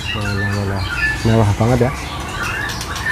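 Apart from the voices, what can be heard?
pentet panda songbird calling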